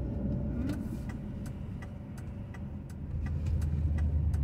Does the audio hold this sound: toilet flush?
no